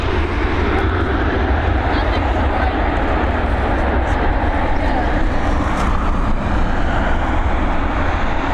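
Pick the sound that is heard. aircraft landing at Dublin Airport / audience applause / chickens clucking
aircraft landing at Dublin Airport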